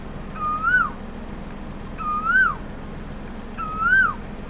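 Male Asian koel perched outdoors giving three loud, clear whistled calls, each swooping up then dropping, repeated at roughly 1.6-second intervals with nothing else prominent.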